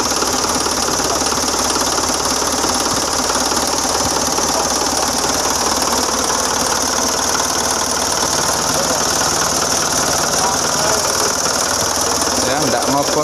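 An Isuzu ELF NKR 71 diesel truck engine idles just after a new turbo cartridge is fitted. It sounds loud and near, a steady clattering rumble with an even knock that runs unbroken for about thirteen seconds.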